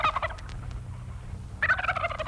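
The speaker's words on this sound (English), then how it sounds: "The turkeys are loose in Custer County." Two short bursts of turkey gobbling used as a sound effect in a radio jingle, a rapid warbling gobble at the start and another after a brief pause, loud and close over a low background hum.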